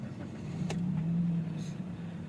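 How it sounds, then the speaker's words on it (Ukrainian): A 2008 Kia Ceed 1.6 petrol engine starts and runs at a steady low idle, with a brief sharp click early on and a faint higher whine in the background. "Так, друзі, далі заведемо, послухаємо, як працює двигун. Отже, запускаємо."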